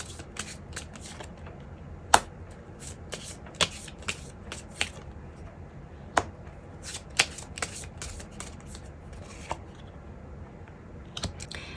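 Tarot cards are shuffled up close, quiet papery riffling with a steady patter and sharp snapping clicks scattered through, alone without speech.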